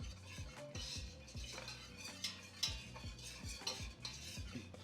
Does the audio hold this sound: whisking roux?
yes